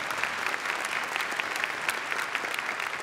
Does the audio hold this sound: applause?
yes